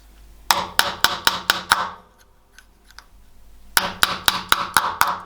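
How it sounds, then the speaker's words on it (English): Guitar pickup pole pieces being hammered deeper between spacers during a custom pickup build: two quick bursts of about six sharp, evenly spaced metallic taps each, separated by a short quiet pause, close and clear with no talking. "and hammer them a little bit deeper between the spacers"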